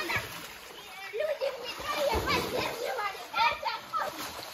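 A girl splashing water on a village balcony, with irregular wet splashes and spatters mixed with children's chatter and squeals throughout.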